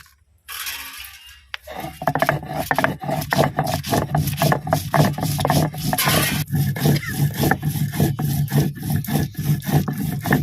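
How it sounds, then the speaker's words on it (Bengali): Whole chillies are ground on a grinding stone, giving a rapid run of rough, rhythmic rubbing and scraping strokes that repeats steadily and close by, with no talking. "লঙ্কা গোটা বেটে নেব।"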